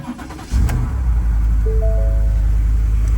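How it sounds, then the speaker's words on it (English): A wrecked Nissan GT-R with deployed airbags starts up, its engine catching with a loud close burst before settling into a steady rumbling idle, with a brief warning chime over it. "Started right up"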